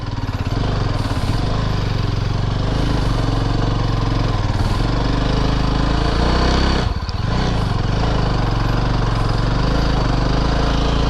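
A motorcycle stuck on a sandy beach at Kappil, Varkala, Kerala, its rear wheel spinning in the sand while the engine runs steadily at a loud, constant drone, with a brief dip partway through.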